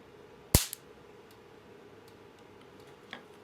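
A capacitor discharge spot weld firing on metal: one sharp loud crack near the start followed by a faint ticking tail, then quiet hum and a smaller click near the end.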